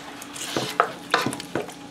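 Chicken pieces with seasoning are stirred in a pan, with several distinct scraping strokes of the utensil over a faint sizzle, close and fairly loud, with no talk.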